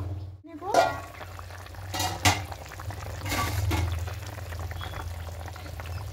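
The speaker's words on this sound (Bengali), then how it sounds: "ঝোলটা ফুটতে শুরু করেছে" Rohu fish curry with half-boiled potatoes simmers in a covered pot, a low continuous bubbling under a few sharp metallic clinks of the lid and utensils.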